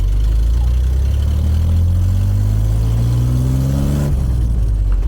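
A car with a freshly rebuilt Chevy 250 engine on a test drive, a loud steady drone rising in pitch as it accelerates, then dropping at a gear change near the end.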